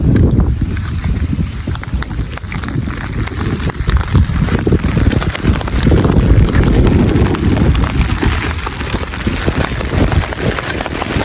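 Heavy rain pours down in Jaffna during flooding, a dense, continuous hiss and patter with gusty wind buffeting the microphone, loud and close throughout, with no voices.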